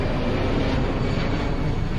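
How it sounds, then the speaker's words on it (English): Airplane passing overhead during a lockdown, a steady broadband roar with low rumble that holds evenly throughout, moderately loud and distant-sounding, with no voices. "Got to hear the sound of airplane after a long time."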